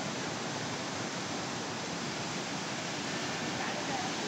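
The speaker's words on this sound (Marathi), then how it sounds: "हा इकडे मागं रंधा धबधब्याचं पाणी" Water from Randha waterfall roars in a constant, dense broadband rush, steady and loud throughout with no breaks.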